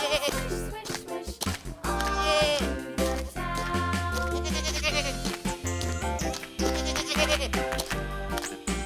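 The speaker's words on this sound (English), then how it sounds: "Sheep." A sheep bleat from a kids' bowling-ball animal-learning game, wavering and repeated over loud, steady background music.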